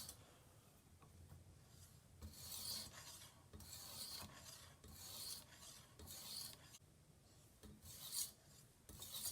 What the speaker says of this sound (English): sharpening a crummy knife